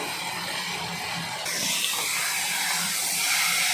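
Fried chicken curry is stirred in a hot pan, giving a steady close broadband hiss of sizzling that grows slightly louder partway through, with no talking.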